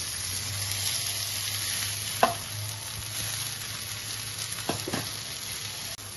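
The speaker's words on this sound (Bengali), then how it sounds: "একবারে কটকটে করে ভেজে নেবো, তাহলে কারোর সঙ্গে কেউ আটকে থাকবে না" Rice sizzles steadily as it is fried until crisp in a pan for Bengali patol pulao, with a few sharp scrapes and clinks of stirring over the continuous hiss.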